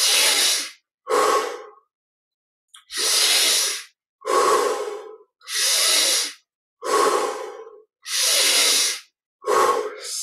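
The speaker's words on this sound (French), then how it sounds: "Une 10 respirations encore, avec encore plus d'amplitude." Deep, slow breaths during guided meditation: about eight long, loud, airy inhales and exhales, close to the mic, separated by short silent pauses.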